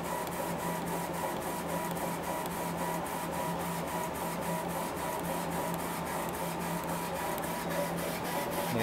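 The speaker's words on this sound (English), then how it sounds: "And we're running this at 600 DPI so I can get the absolute best performance out of the machine." A Laserpro 50-watt CO2 laser engraving machine runs at 600 DPI, its carriage sweeping back and forth in a fast, even rhythm over a steady mechanical hum, close and continuous with no talking.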